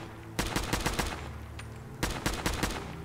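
A modded gun in the video game Fallout 4 fires rapidly in two quick bursts of about half a dozen sharp shots each, close and punchy with a short gap between.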